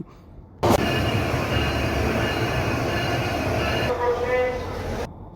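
The Cox's Bazar Express train rushes past nearby, a loud, dense rumbling roar that starts abruptly, holds steady for several seconds with faint metallic squeals, then cuts off.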